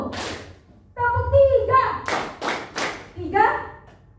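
Schoolchildren in a classroom clap their hands together in rhythmic bursts, sharp and fairly close, alternating with short chanted call-and-response voices.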